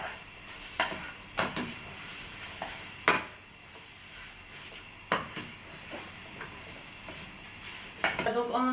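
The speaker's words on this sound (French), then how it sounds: "Et nous allons retourner tout ça jusqu'à ce que la morue soit complètement cuite en fait." Crumbled salted cod sizzling in a pan while it is turned and stirred with a utensil, scraping and clinking in bursts against the pan over a steady soft frying hiss, no talking.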